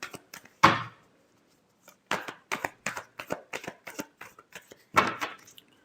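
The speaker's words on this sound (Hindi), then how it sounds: "last shuffle" Tarot cards being shuffled by hand, with sharp riffling bursts and a rapid run of soft card flicks and taps, close and clear with no talking.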